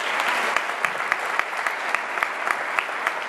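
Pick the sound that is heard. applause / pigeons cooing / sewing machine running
applause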